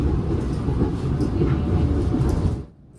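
Pangrango passenger train nearing Bogor station, Indonesia: a steady low rumble of the moving carriage heard from on board, fading abruptly near the end.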